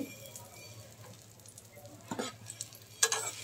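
Egg omelette frying in a pan as it is flipped, a soft steady sizzle with light stirring and scraping, plus a few sharper clatters near the end as the egg is turned over.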